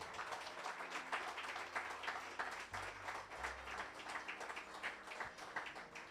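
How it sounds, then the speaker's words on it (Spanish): A church congregation claps for the Lord in a dense, continuous wash of applause, fairly faint and distant, with rhythmic pulses running through it and no talking. "¿Cuántos le dan palmas al Señor?"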